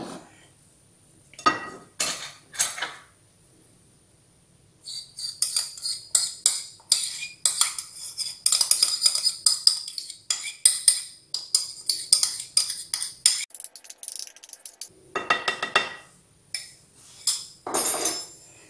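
Utensil scraping and clinking against a bowl while dough ingredients and softened butter are mixed for small Roman-style buns, in irregular bursts of close, moderately loud scraping with short pauses.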